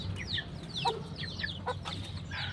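Chickens cluck and chirp nearby in quick, scattered calls over a low steady background hum, with no voices present.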